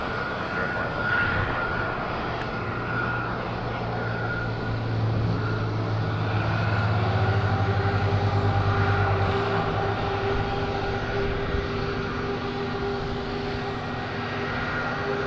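An aircraft engine drones steadily on the runway at Madeira Island Airport, a continuous loud rumble with a sustained low tone, no speech over it.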